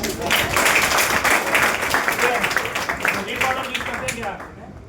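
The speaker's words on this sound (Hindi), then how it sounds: "जोरदार ताली होना चाहिए" An audience at a motivational event bursts into loud, crowded clapping that holds steady, then thins and fades toward the end, with speech mixed in.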